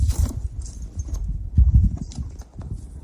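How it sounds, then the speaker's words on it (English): Horses walking freely around a yard, hooves clip-clopping in a steady, close, loud shuffle with occasional sharper knocks and no talk. "Now the horses can walk around here freely."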